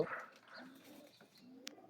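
Soft, faint cooing from young magnet pigeon chicks, a few brief low murmurs and a tiny chirp in an otherwise quiet space.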